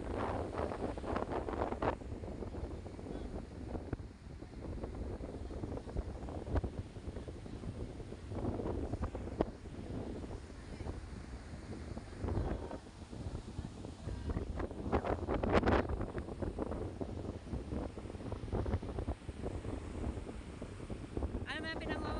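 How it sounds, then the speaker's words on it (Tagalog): Strong wind gusts buffet the microphone at a seashore after a typhoon, a loud roaring rush over surf, with a person talking at times under the wind. "Grabe, lakas ang hangin."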